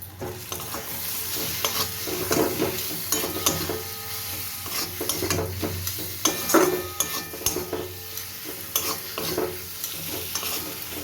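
Four fish pieces fry in cooked spice paste in a pan, with a continuous sizzle, frequent scraping stirs and occasional clinks of utensil on pan, close and fairly quiet with no voices.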